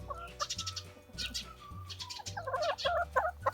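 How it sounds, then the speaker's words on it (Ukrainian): A young Minorca hen clucks and trills close by in short repeated bursts, over a steady low background rumble. "Мінорочка, молоденька курочка."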